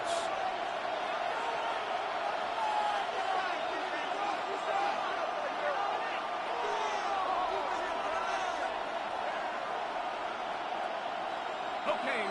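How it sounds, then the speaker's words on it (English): Stadium crowd noise from the Madden NFL 26 football video game on PS5, a constant moderate roar of spectators with faint cheers, running under continuous play-by-play commentary. "The crowd making their presence felt."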